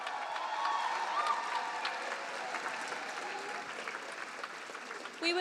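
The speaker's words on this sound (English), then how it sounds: "Let's all give Jim a big round of applause for his service to UM." An audience at a university college night awards event applauds an honoree, sustained and even clapping from a large crowd at moderate distance, with a brief louder swell at the very end.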